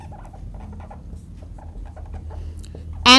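A pen scratches steadily across a writing surface while a binomial theorem problem is worked through in a math lesson, a continuous soft scraping, with a brief louder sound at the very end.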